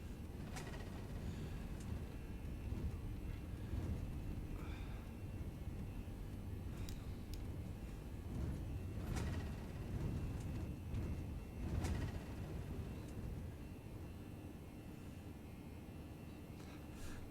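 Toliss A319 airliner taking off in a flight simulator, a low steady engine rumble with scattered clicks and clunks, no voices.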